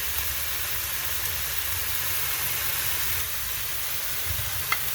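Minced meat sizzles with onions in a pan for menemen, a steady low hiss and crackle with no talk, with one sharp pop near the end.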